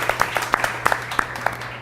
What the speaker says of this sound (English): Please give the mayor a round of applause.